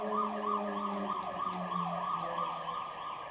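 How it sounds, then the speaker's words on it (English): A wailing siren rises and falls repeatedly in quick sweeps, continuous and fairly distant, with a low steady tone underneath. "there's a siren."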